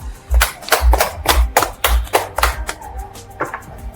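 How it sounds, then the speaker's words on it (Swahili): A small group of people clapping in a steady rhythm, about eight sharp close claps spaced half a second apart, then a couple of softer ones trailing off. "Pigeni makofi kidogo."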